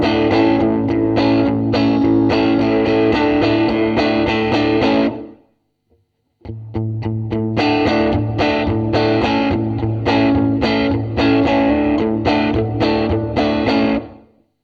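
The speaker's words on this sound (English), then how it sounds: "gated reverb is a regular reverb with a gate added afterwards. And it basically shuts down the reverb as soon as I stop playing" Electric guitar played through a TC Electronic Hall of Fame pedal on its gated reverb setting: loud distorted chords ring under a thick reverb that cuts off abruptly into near silence mid-way, then the playing resumes and stops dead again.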